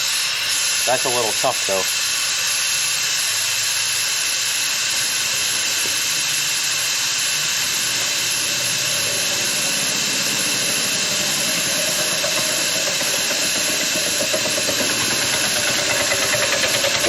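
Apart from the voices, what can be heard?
air hissing out while airing down an off-road tire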